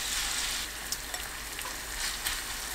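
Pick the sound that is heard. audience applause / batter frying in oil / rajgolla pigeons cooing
batter frying in oil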